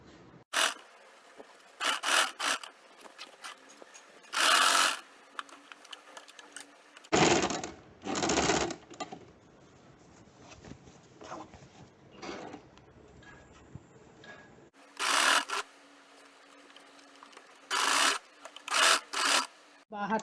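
Sewing machine stitching a facing onto fabric for a round collar neckline, in several short whirring bursts separated by pauses and soft handling rustles, close and fairly quiet.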